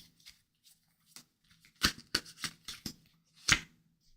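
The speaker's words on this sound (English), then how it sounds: "Look, I'm gonna shuffle again." Tarot cards being shuffled by hand, giving a run of quick close riffling snaps and taps with brief pauses and a few sharper slaps, no talking.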